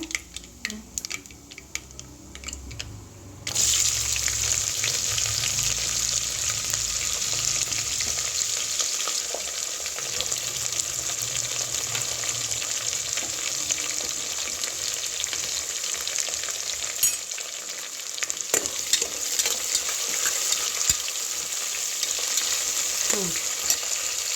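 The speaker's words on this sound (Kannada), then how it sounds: "ಸಾಸಿವೆ ಮತ್ತು ಜೀರಿಗೆ ಚಟಪಟ ಅಂದ ನಂತರ ಈರುಳ್ಳಿಯನ್ನು ಹಾಕ್ಕೊಳ್ತಾ ಇದ್ದೀನಿ" Onions go into hot oil where mustard seeds and cumin have been spluttering for a vegetable pulao; soft crackling jumps into a loud, sustained, close sizzle that carries on evenly with occasional stirring clicks.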